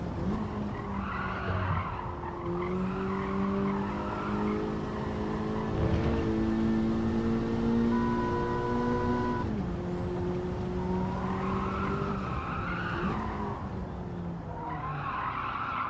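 Road-car tires squeal and skid under hard, straight-line braking in Gran Turismo 7, a sustained tonal screech lasting several seconds that wavers in pitch, fades briefly and returns over engine noise.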